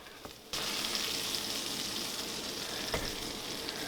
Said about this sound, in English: get ready for the sizzle